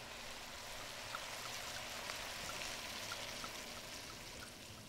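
A whole bottle of good red wine pours steadily into a pot of beef bourguignon, a soft continuous gurgling stream, faint and close, with no one talking.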